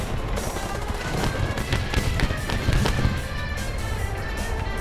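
A bomb goes off in the tank game War Thunder: a cluster of sharp bursts and heavy thuds in quick succession over a rumbling backdrop, loud and close, with no talking.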